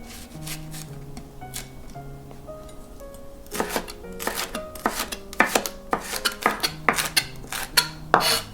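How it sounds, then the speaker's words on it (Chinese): A knife chops chili peppers into thin shreds for zucchini pancakes, with a run of quick, crisp cuts that grow louder and more rhythmic in the second half over soft melodic background tones. "可以再切点辣椒丝，配色好看，也增加点鲜辣味儿"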